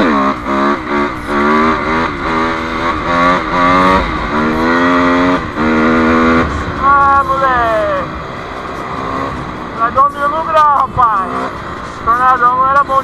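A Honda CRF250 dirt bike revs repeatedly nearby, its engine pitch climbing and falling in rising sweeps, with people talking loudly over and between the bursts.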